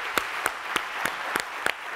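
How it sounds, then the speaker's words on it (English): An audience at the Social Business Forum 2017 at HEC Montréal applauds Professor Yunus, a steady wash of clapping with sharp, evenly spaced nearby claps punctuating it. "please applaud Professor Yunus"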